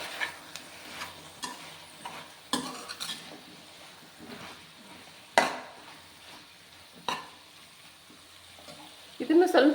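Chopped potatoes frying with fenugreek in a pan, soft sizzling under sharp scrapes and knocks of a spoon mixing against the pan, louder clatter at the end, no talk.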